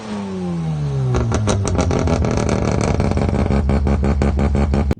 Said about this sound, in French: son moteur, bah il fait pas un bruit si dégueulasse que ça